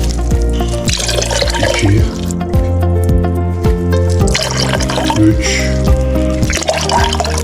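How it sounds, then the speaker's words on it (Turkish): Drinking water poured into a cooking pot to make şekerpare syrup, a close, continuous splashing stream that runs under background music. "4 su bardağı içme suyu ekledim"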